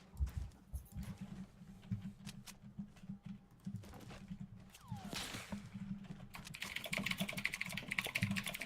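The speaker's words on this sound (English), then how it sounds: "The keyboard is very clickety clackety." Rapid clickety-clack keystrokes from a clicky computer keyboard run continuously, close and moderately loud, growing denser and busier toward the end, with no voices.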